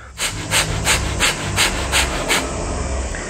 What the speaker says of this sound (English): The second one is called the breath of fire, which is another fast breathing technique, sort of like a dog